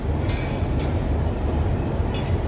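An express train on an Indian railway rushes past, a steady loud rumble of wheels and carriages with a few brief higher metallic squeals.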